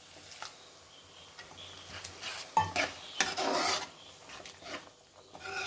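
A spoon scrapes and stirs masala loosened with a little water in a pan, giving soft irregular rasping strokes that swell into louder wet scraping bursts midway, close by and without talk.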